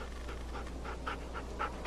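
A dog in The Walking Dead Season 2 video game panting rhythmically, quick breathy pants repeating at close range over a steady low background hum.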